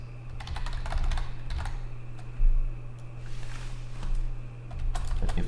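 Typing on a computer keyboard while searching in a Windows 10 Game Bar overlay: bursts of soft key clicks, close and fairly quiet, with short pauses between runs.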